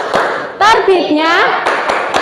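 Children in a classroom clap along to a rhythmic clapping song, giving a few sharp claps among lively sung and spoken voices of a teacher and kids.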